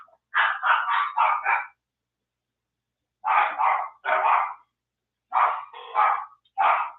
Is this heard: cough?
no